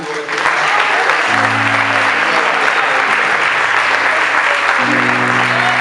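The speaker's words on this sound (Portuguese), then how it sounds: "Vamos dar uma salva de palmas para Jesus." Church congregation applauding loudly and steadily throughout, a dense continuous wash of clapping hands with a sustained tone underneath.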